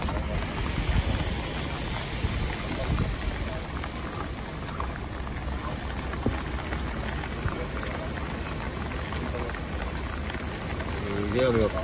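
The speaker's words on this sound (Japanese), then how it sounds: "すげえ雨が降ってる" Heavy rain falls steadily during a long-haul truck drive, a dense continuous wash of noise with a voice talking over it.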